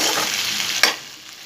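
Potatoes and onions frying and browning in a pan for a Punjabi dhaba-style aloo palak, with a steady close sizzle and one brief louder clink or stir near the end, no talking.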